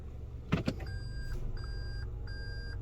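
A powered rear window sunshade on a 2022 Toyota Camry lowers with a steady, faint motor hum inside the cabin, while repeated electronic beeps from the reverse-gear chime sound throughout, preceded by a couple of clicks.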